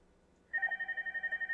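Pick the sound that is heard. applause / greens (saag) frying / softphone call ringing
softphone call ringing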